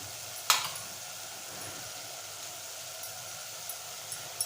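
Sprouted red cowpea curry with Malvani masala and coriander powder is stirred in a pan, giving a steady soft sizzle with a brief louder scrape near the start and faint clinks toward the end.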